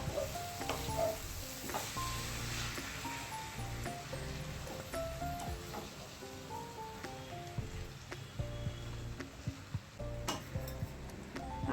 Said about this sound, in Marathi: आता हा तांदूळ आपल्याला छान परतवून घ्यायचा आहे।